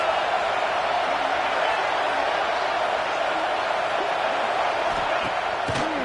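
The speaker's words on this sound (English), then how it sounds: "This crowd trying to make life miserable for this offense." A dense stadium crowd roars steadily in the College Football 26 video game during an Alabama versus Tennessee matchup, a constant loud wash of noise with a few faint thuds near the end.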